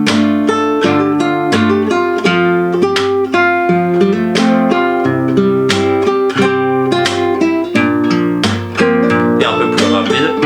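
A fingerstyle acoustic guitar arrangement of a song is played slowly, with the thumb tapping percussively on beats 2 and 4. Plucked notes ring clearly on their own, punctuated by regular taps.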